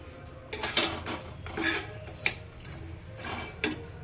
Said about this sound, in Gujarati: મીડિયમ ગેસ ઉપર લસણને પાંચ મિનિટ શેકી નાખીએ છીએ